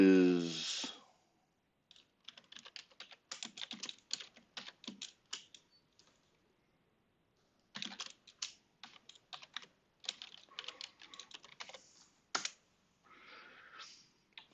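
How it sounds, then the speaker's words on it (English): Someone types on a computer keyboard in short bursts of quick clicking keystrokes separated by brief pauses, close and fairly quiet, with no talk over it. "So we'll go ahead and type that in."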